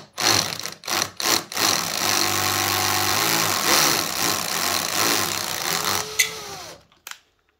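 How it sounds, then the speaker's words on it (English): A knob on a vibration test rig with a standard washer, being shaken under a small torque to loosen it: a loud, steady mechanical buzz with a low tonal hum, preceded by a few short bursts and ending with a clunk and silence. "I turn down the torque considerably and mainly apply vibration together with a small torque"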